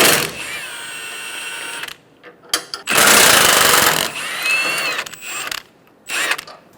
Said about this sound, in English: 18mm socket, we're going to remove 4 bolts on the top of the bumper.